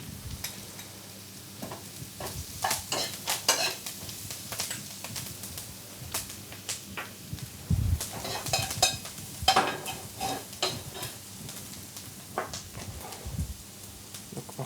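Ceps mushrooms sweat in a pan with shallots, garlic and parsley, a soft sizzle under repeated clatter of a utensil stirring and scraping, with intermittent knocks and bumps.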